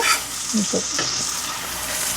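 Banana flower curry (mocha ghonto) is stirred and fried in a pan, giving a steady sizzling hiss with a few scraping stirs of the spatula early on, close and continuous with no talk.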